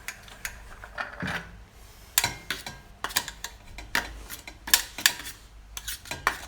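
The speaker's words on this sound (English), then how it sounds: "Scoop the rest of the pan." A utensil scrapes and scoops cooked potato out of a pan for homemade vegan gnocchi, giving irregular clinks and scrapes of metal on the pan with soft rubbing between them, close and fairly quiet.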